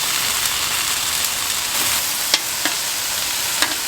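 Tomatoes sizzle and fry on a Blackstone flat-top griddle plate beside cooking beef, a steady close hiss with a few sharp clicks and pops scattered through.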